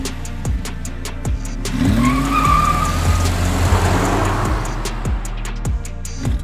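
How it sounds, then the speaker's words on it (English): A 2022 Land Rover Defender 90 with a V8 engine growls loudly on a mountain road, its engine note rising and falling with revs amid a rhythmic ticking clatter, and tires squeal briefly. "This is the Land Rover Defender 90 V8, and it is awesome."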